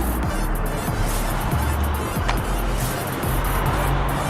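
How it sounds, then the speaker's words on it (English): Inside a moving taxi cab, a constant loud road and engine rumble with tyre noise fills the cabin, steady throughout with no talking. "So I'm in a cab right now"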